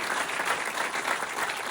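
Inside a theatre at a stand-up comedy show, a seated audience applauds warmly in a dense, steady wash of clapping that stays loud from start to finish.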